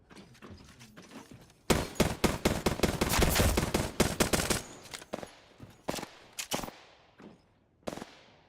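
A video game gun fires on a practice range in short rapid bursts, several sharp clusters of shots separated by brief pauses, loud and close.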